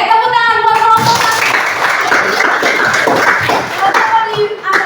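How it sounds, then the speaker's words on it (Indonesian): A classroom group claps for fellow students who have just presented a discussion poster, a short burst of close, uneven hand claps following a brief spoken line and fading as speech returns. "tepuk tangan buat kelompok"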